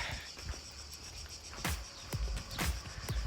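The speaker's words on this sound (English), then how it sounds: "And that noise of those little cricket fellas." Crickets chirp along a hiking trail on the Corfu Trail, a steady high trill running throughout, with a few louder nearby rustles or bumps and no talking.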